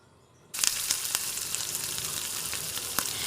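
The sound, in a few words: hot tempering with asafoetida added to handvo batter, sizzling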